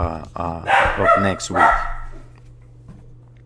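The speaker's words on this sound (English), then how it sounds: "that's my dog's barking" A dog barks close by several times in quick succession, loud yaps over a man's speech, then trailing off into quiet room hum.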